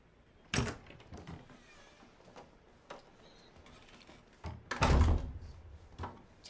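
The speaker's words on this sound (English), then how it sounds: "Jam the door." Door being jammed shut in the horror video game Erica: scattered thuds and scrapes, with a heavy close bang near the end amid quieter knocks.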